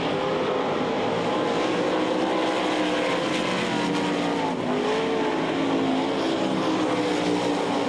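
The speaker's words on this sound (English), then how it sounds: "It's Johnson's rookie season in a sprint car as Mike Wagner takes it up to the cushion to put a lap on Jason Johnson." Sprint cars race on a dirt track, several engines screaming loudly at once in a sustained high-pitched roar, with pitch rising and falling as the cars pass and throttle through the turns.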